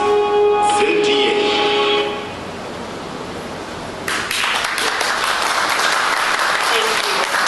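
An audience at a Zambian investment event breaks into applause after a brief tonal passage and a lull, the clapping building to a dense, steady roar close by.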